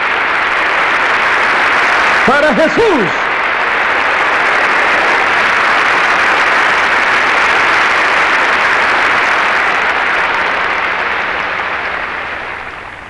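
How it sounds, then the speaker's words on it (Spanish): Loud, sustained congregational applause fills a church service, holding steady for over ten seconds before tapering off, with a brief spoken phrase near the start. "Demos un aplauso a Dios, hagámoslo para Jesús"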